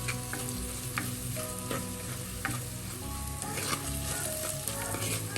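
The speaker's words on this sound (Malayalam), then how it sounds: "ഒരു ടീസ്പൂൺ കാശ്മീരി മുളക് പൊടിയാണ് വേണ്ടത് പിന്നെ ഒരു ടീസ്പൂൺ മല്ലിപ്പൊടി എല്ലാം കൂടെ ചേർത്ത് നല്ലപോലെ എണ്ണയിലൊന്ന് മൂപ്പിക്കും" Kashmiri chilli powder and coriander powder fry in hot oil while being stirred, a steady close sizzle with scraping spoon strokes over faint background music, no talking.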